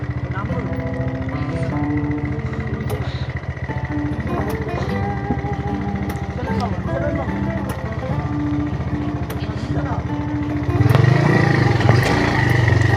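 A motorcycle rides along a rural village path over a bridge near Arial Beel in Sreenagar, Munshiganj, its steady engine drone running under ongoing talk and growing louder toward the end.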